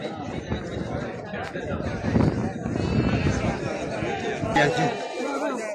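Lambs and sheep bleat at a livestock market in Maştağa, Azerbaijan, their calls rising through steady crowd chatter and nearby voices.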